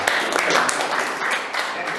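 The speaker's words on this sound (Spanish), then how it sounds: "Y un aplauso para el maestro." A short burst of applause for a teacher at a small gathering after a toast, with quick clapping mixed with voices.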